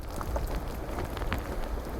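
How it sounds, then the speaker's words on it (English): Steady rain patters down on a Bird of Paradise farm, a soft, continuous hiss of drops with faint low rumbling underneath, fairly quiet and with nobody talking. "As the rain comes down, puddles are popping up all over this Bird of Paradise farm."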